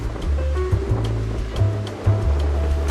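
Waves of the Mediterranean Sea at Caesarea surging and washing in, a loud continuous roar with rumbling low swells rising and falling every second or so, no speech.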